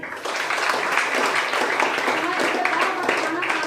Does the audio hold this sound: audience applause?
yes